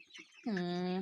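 A chicken lets out a loud, sustained harmonic call right up close at a chicken farm after a brief stretch of soft background murmuring.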